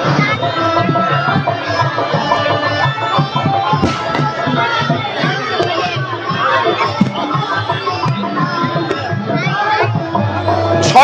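A dense crowd of devotees gathers for Chhath Puja in Bargarh, a steady, loud hubbub of many voices and chatter with cheering rising at moments throughout.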